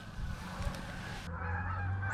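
Geese honking as they circle over a park pond in winter, calls carried through steady outdoor background noise, moderately faint and distant.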